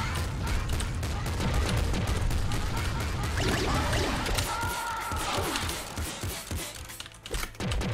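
The golden disc gun firing in Nuclear Throne: a fast, dense stream of shots and impacts, steady and near, thinning out toward the end with a few scattered hits.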